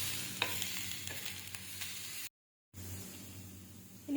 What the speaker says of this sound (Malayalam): ചൂടായതിനു ശേഷം നമുക്ക് കട്ട് ചെയ്ത് വെച്ചിരിക്കുന്ന സവാളയും പച്ചമുളകും ഇട്ട് നന്നായിട്ട് വഴറ്റിയെടുക്കാം.